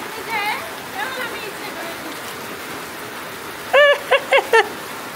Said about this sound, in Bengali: আর এদিকে প্রচণ্ড বৃষ্টি